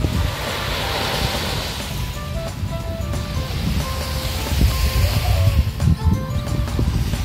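Waves wash steadily onto a swimming beach below Sumoto Castle on Awaji Island, a continuous rumbling surf with wind buffeting the microphone and a few faint whistling tones over it.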